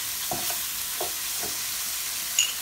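Seasoned leftovers are stirred in a pan, with three soft scraping strokes over a faint, steady sizzle and a small clink near the end.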